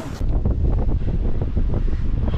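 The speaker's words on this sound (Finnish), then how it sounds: "Noista tuulee niinku sivulta." Strong wind blowing from the side outdoors during a snowshoe outing: loud, continuous buffeting roar hitting the microphone, gusty and rumbling, with no voices.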